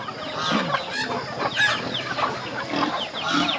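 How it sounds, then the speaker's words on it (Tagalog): A flock of chickens and turkeys clucks and chatters continuously, many overlapping calls at close to moderate distance with no talking. "Paparami din natin yung mga manok at mga pabo natin."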